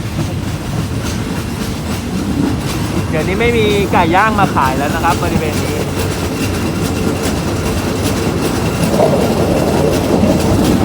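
Thai ordinary passenger train 254, Lang Suan to Thonburi, rumbles and clatters steadily along the tracks near Khlong Bang Tan station, wheels squealing briefly, while someone talks over the noise from inside the carriage.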